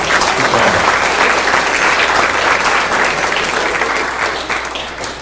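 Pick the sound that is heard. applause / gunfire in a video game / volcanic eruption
applause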